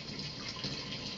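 Liquid for making mead pours from high up in a continuous, faint splashing stream that stays steady throughout.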